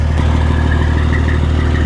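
A truck's diesel engine idles steadily with its exhaust running at a loading site in freezing cold, a constant close, loud low rumble with faint clatter and no talk.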